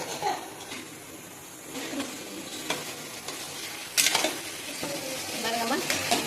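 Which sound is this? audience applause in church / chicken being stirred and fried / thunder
chicken being stirred and fried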